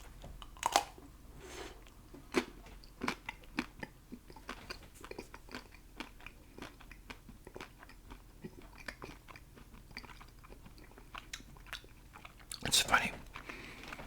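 Chewing a chocolate-coated ice cream bar up close for ASMR mukbang: repeated crisp bites and crunches through a thin chocolate shell, with soft mouth sounds between, a louder crunching burst near the end and a brief spoken aside.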